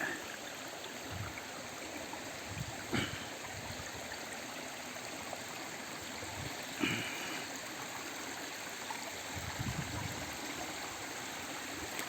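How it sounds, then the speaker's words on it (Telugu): A mountain stream in the Paderu hills flows over rocks, its steady rushing wash continuous throughout with a few faint knocks and rustles nearby. "చూడండి ఇదంతా నదే"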